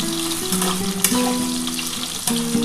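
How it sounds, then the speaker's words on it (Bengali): Potatoes frying in oil in a pan for a Bengali vegetarian bean and potato curry, a steady close sizzle with bubbling crackle throughout, no talking. "প্রথমে আগে আলুটা একটুখানি ভেজে নেবো বন্ধুরা"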